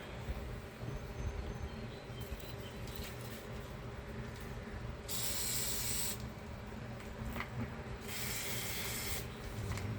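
WD-40 is sprayed onto the shock bolts of a 2000 Chevy Suburban, two short bursts of faint hissing spray over a low background rumble.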